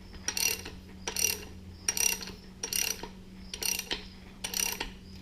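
Ratchet tightening the flywheel bolts on an air-cooled Type 1 engine by hand, six quick bursts of rapid clicking in an even rhythm, close and fairly quiet, with no talking.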